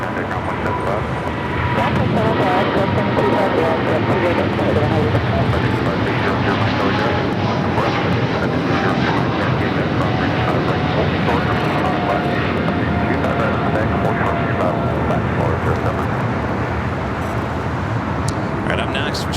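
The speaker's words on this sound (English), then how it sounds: "we should be seeing the C-17 taking off on the north side" A C-17 military transport jet takes off from the north side at LAX, a broad, steady engine roar filling the scene, loud and continuous, with no break in the noise.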